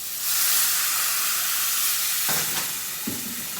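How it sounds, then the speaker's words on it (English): Water hits hot browned rice in a pan for Mexican rice, bursting into a loud, steady sizzle and hiss of steam that fades slightly, followed by a couple of brief clinks. "So it's brown. Let's put some water in it."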